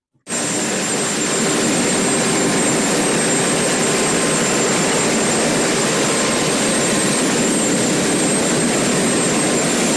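A jet engine of the presidential airplane roars steadily and loud from start to finish, a broad continuous whine and rush with a high tonal whistle on top.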